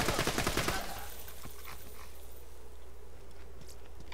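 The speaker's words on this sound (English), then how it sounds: "Are you shooting at me?" Rapid gunfire bursts in the video game Borderlands 2, loud and dense for the first second, then fading into scattered distant shots and crackles over a steady low hum.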